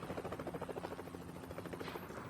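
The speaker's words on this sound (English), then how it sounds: "Feds even have a helicopter." A helicopter flies overhead in a 1999 action film scene, its rotor beating in a steady rapid rhythm, fairly distant and faint, with no voices over it.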